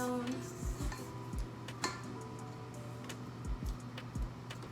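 A spatula scrapes down cookie dough for strawberry confetti cookies inside a mixing bowl, giving soft repeated scrapes and light knocks against the bowl in an uneven rhythm. The sounds are close and quiet over a low steady hum, with no voices.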